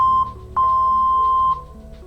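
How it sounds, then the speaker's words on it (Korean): A steady electronic beep at one pitch from a Roland Aerophone GO AE-05 digital wind instrument during a factory reset, broken by short gaps, with a low hum running underneath. "썸 버튼을 한번 눌러주시면 길게 삐 소리가 나게 됩니다"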